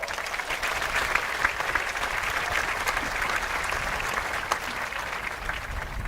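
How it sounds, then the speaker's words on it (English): A graduation audience gives sustained applause for the families, a broad, even patter of many hands with a few sharper claps standing out, heard at a moderate distance. "Let's have a round of applause for all the families out here tonight as well"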